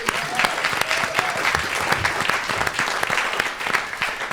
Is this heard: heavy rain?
no